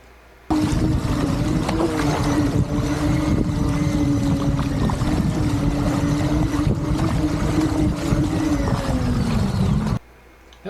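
An autonomous boat's motor drones steadily at six knots, starting abruptly and running loud and even for about nine seconds with a sustained hum and splashing water, then cutting off.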